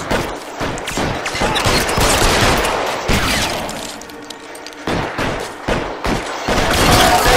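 Gunfire in the L.A. Noire video game comes as loud, sharp shots and rapid volleys in clustered bursts, with short pauses between exchanges.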